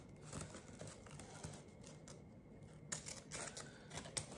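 Scissors snipping through ribbon while a decorative dough-style bow is made, a few crisp cuts amid rustling and crinkling of the ribbon, close and fairly quiet.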